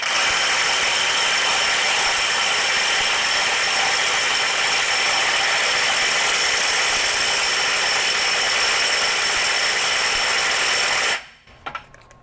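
A RIDGID 18V right angle impact wrench (R8721/R8720) driving a large socket, a loud continuous hammering buzz held for about eleven seconds, then cutting off abruptly with a few faint clicks.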